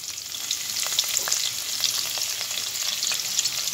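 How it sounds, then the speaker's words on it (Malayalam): Chopped onions sauté with spices in a pan for beef stew, giving a steady, dense sizzle with small crackles and occasional stirring scrapes, close and continuous with no talking. "ഇനി അതിലേക്ക് നമുക്ക് സവാള അരിഞ്ഞിട്ട് ഒന്ന് വഴറ്റിയെടുക്കാം."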